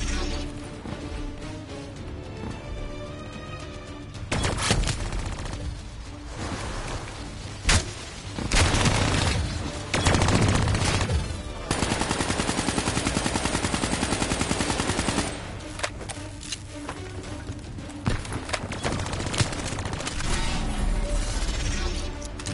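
Rapid machine-gun bursts and heavy gunfire with crashing impacts from a Call of Duty Black Ops 3 firefight, with a thrown frag grenade in the mix; the shooting is loud and dense, in clusters across the scene with brief lulls.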